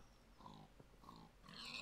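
A pig from Minecraft giving a couple of short, faint grunts and oinks, quiet and close, with no talk.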